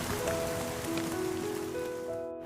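Heavy rain falls in Kumamoto, a dense, even hiss of drops on surfaces that stays steady throughout and is heard alone without voices.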